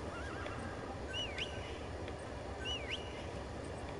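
A horse whinnies twice, its high wavering calls rising over a steady background rumble, with faint hoof sounds in between.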